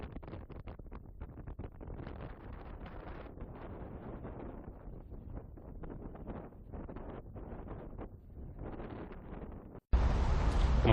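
Strong wind near the Golden Gate Bridge in San Francisco buffets the microphone in continuous loud gusty roaring, then cuts off abruptly before a final burst of harsher noise.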